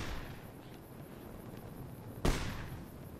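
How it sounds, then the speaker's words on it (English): Gunfire in the video game Fallout New Vegas: one sudden loud report rises over a low rumbling game background partway through, then fades quickly. "Alright, gunfire has stopped. Oh, nope, haven't stopped."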